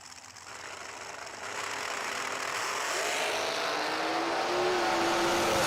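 Drag racing cars launch off the line at a summer drag strip, engine roar swelling from a distance and building into a loud, sustained rising howl, with no voices.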